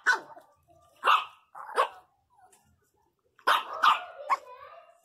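A feisty miniature pinscher barks in short bursts guarding its food, a few sharp yaps, a pause, then a quicker run of barks and yips, close by indoors with faint growling between.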